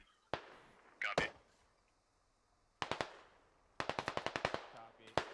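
Gunfire in the tactical shooter SquadOps: sharp, loud single shots, a quick double crack, then scattered reports and a rapid run of evenly spaced automatic fire near the end.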